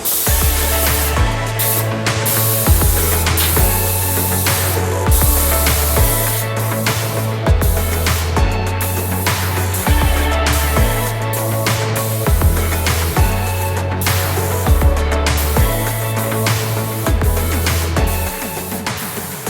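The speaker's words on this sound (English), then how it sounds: "I started by spraying all of the paneling on the far side of the room" A continuous airy hiss of a paint sprayer coating bedroom wall paneling runs throughout, accompanied by a repeating low rhythmic thumping pattern in the background.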